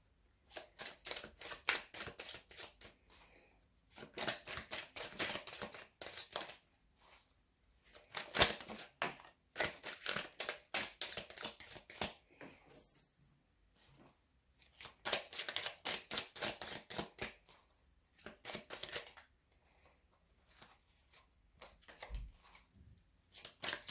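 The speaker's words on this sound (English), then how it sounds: "So let's shuffle some cards and see what we have for you" Tarot cards being shuffled by hand in repeated bursts of crisp riffling and flicking, close and fairly quiet, with short pauses between rounds and no talk.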